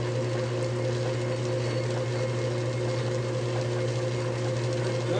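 An older Atlas lathe fitted with a milling attachment runs with a steady, even motor hum and faint mechanical whir, constant and close with no talk over it.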